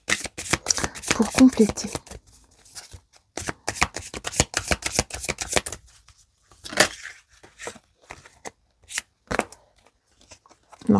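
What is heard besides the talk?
shuffling oracle cards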